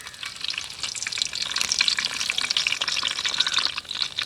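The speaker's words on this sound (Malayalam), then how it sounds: "നമുക്ക് ഇനി വെളിച്ചെണ്ണ ഒഴിച്ച് കൊടുക്കാം. ഇനി നമുക്ക് കരിവേപ്പില ചേർത്ത് കൊടുക്കാം കേട്ടോ." Curry leaves hit hot coconut oil in a heated pan, giving a dense, steady crackling sizzle with popping spatters throughout, close and fairly loud, with no voices.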